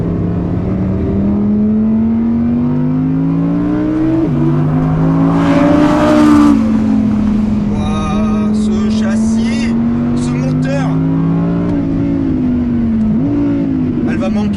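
An Audi R8 RWD engine pulls hard on a race circuit, its pitch climbing and then dropping back at gear shifts, a loud in-car drone with people talking over it.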